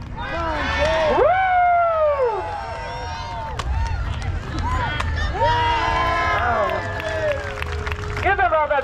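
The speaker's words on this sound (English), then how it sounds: "Come on, guys, cheer on Jake." A fair crowd cheers on a racer named Jake, with whoops and high shrieking voices over steady crowd noise and some clapping, close and loud throughout.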